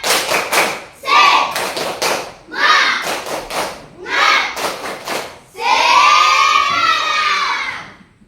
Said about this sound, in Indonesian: Ulang. 1, 2, 3. Tepuk semangat.